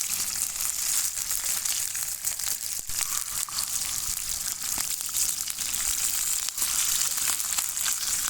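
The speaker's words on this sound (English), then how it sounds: "But fish is frying nicely." Steady crackling sizzle of freshly caught northern freshwater fish frying in hot oil, a constant bright hiss with small pops, moderately quiet and uninterrupted.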